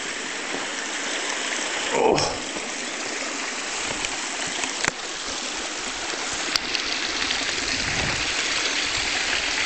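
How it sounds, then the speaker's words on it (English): A high-running creek flows toward a waterfall near Paterson, making a constant close rushing and gurgling wash with a few brief thumps and handling knocks. "That's a waterfall."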